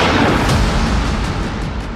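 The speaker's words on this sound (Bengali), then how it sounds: "একদম সামনে থাকা কদাকার জীবটিকে লক্ষ্য করে বন্দুক চালিয়ে দিলেন" A gunshot sound effect in an audio drama, fired at a monster in a forest: a loud, booming blast with a rolling, rumbling tail that fills the whole moment.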